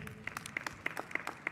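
A handful of people clap at a District of Columbia mayoral inaugural swearing-in ceremony, sparse and uneven claps in a short, light burst of applause.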